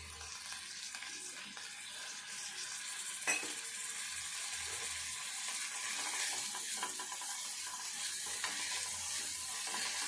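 Ingredients with fresh coriander fry in a pan, giving a steady, quiet crackling sizzle throughout with one brief sharp click, and no voices.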